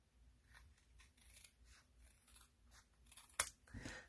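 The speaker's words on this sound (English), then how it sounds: "And we gotta have scissors. We're gonna cut this part out." Scissors snip through paper for a stamping craft project, a series of soft, quiet, close cuts in steady rhythm, ending with a sharper crisp snip and a light rustle.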